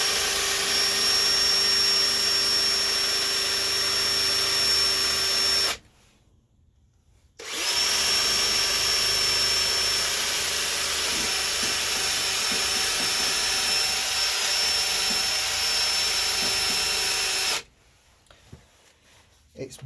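A power drill spins a nylon cleaning wheel against a Classic Mini part, a steady high-pitched whine that stops briefly about a third of the way in, runs on again, then cuts off near the end.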